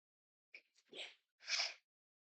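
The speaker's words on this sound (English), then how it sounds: "I gotta sneeze." A person sneezes indoors, a quick catching inhale followed by two bursts of sneezing, close and moderately loud against silence.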